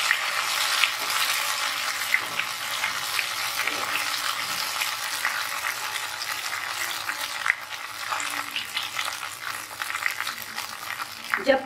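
Ghevar batter poured into hot oil sizzles and froths in a steady, bright hiss, close and continuous, with a faint clink or two and no talking.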